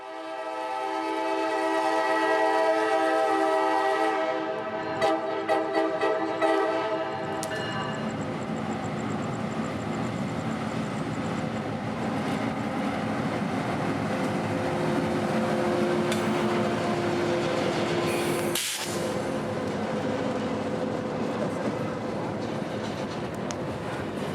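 A CSX local freight train passing north under the Summit Expressway blasts a loud horn, then rumbles and squeals steadily past nearby as the cars roll by.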